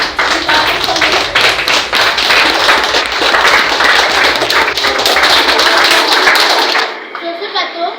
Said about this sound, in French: Sous vos acclamations et vos encouragements, nous allons commencer.